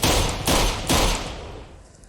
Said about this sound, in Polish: trzy strzały z pistoletu i myk